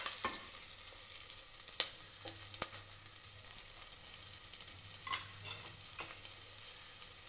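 Cumin seeds frying in hot ghee for jeera rice, a steady close sizzle with sharp spoon scrapes and clicks against the pan at irregular intervals.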